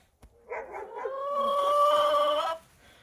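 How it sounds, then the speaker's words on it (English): A dog on a homestead gives a drawn-out whining, yowling vocalization lasting about two seconds, moderately close and clear, preceded by a brief click. "The dogs are in the background."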